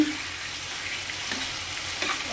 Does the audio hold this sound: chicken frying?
yes